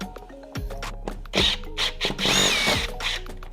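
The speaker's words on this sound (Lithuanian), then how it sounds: "atsukam kitą varžtą" A cordless screwdriver or drill takes out the screw of a window handle in short, close whirring bursts that stop and start, with a few light clicks between them.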